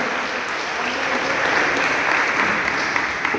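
A church congregation bursts into dense, sustained applause, loud and close, a steady wash of clapping hands filling the room with no talk over it.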